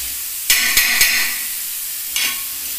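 Potato filling for samosas stir-fried in oil sizzles close up, with three quick spatula scrapes in a row, a pause, then a fourth scrape over the continuous hiss.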